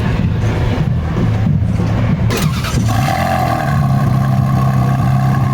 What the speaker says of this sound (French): Alors on va avoir le petit démarrage de la Ferrari 360 Modena.